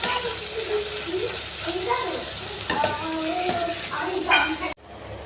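Katla fish fat frying in a pan, a steady close sizzle with brief stirring scrapes and clinks over about five seconds, a short cut near the end.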